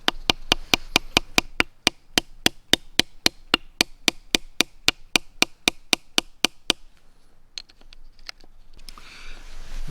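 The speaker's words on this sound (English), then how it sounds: "I hammer those into the wood or a flat log just to hold the stone steady" Hammer strikes drive small nails into wood or a flat log, a rapid, steady run of about thirty sharp close taps, then stopping, followed by quieter scattered knocks and handling noise.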